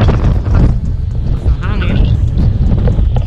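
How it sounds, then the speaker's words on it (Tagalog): Strong wind buffets the microphone in gusty, rumbling low bursts throughout, on an open concrete road in Silang, Cavite in cold weather, with a voice speaking faintly beneath the roar. "Napakahangin lang po."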